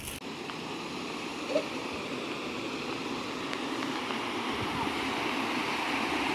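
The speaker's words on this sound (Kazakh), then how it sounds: "кірген жерде осындай әдемі сарқырама" A waterfall at the entrance of the Aǵaidar resort rushes in a steady, moderate broadband roar with no talk.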